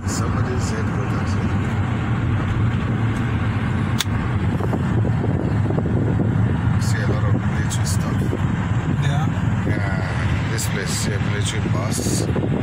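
A bus drives past along a city street in Kitambo, a loud, steady engine and road roar that holds throughout while people talk over it.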